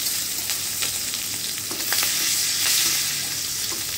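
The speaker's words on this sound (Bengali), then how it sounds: "তারপরে এখানে ক্যাপসিকামটা দিয়ে দিলাম" Capsicum tossed into hot spiced oil, frying with a loud, continuous crackling sizzle and light stirring clatter, no voices.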